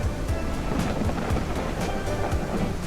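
Rain falling on a farm in the video game Ranch Simulator, a constant dense wash of downpour with soft rumbling beneath, steady and fairly loud with no voices.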